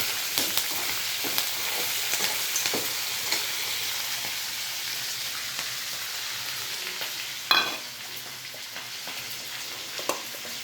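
Ingredients sizzle steadily in a hot pan, a constant crackling hiss with scattered small pops and a louder clatter partway through, no voices.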